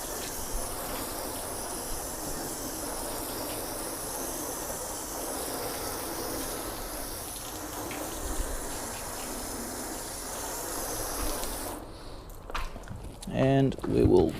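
A hose stream of water rinsing a car, a steady hissing gush for about twelve seconds before cutting off, followed by footsteps and a brief voice.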